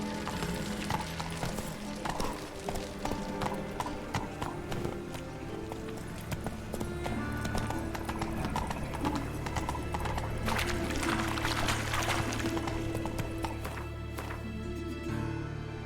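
In The Witcher 3, the horse Roach gallops with rapid, steady clip-clopping hoofbeats and gives an occasional neigh, all loud and continuous over a busy game soundscape.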